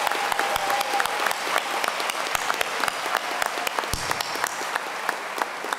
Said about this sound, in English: So could we just do an applause on behalf of the graduates for everybody?